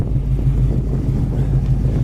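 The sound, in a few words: 1974 Pontiac GTO 3-inch exhaust running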